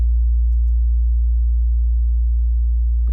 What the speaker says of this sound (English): under all of this, I have this sub bass